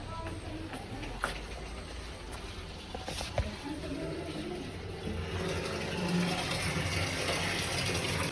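Water runs steadily from a tap into a tank, a continuous broadband rush that grows slightly fuller toward the end, with faint voices in the background.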